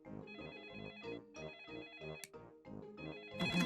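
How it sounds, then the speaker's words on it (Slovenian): An island telephone in a Peppa Pig cartoon rings with a repeating electronic ringtone, steady bursts of bright tones in a regular rhythm, ending with a short clatter. "Tukaj je otoški telefon."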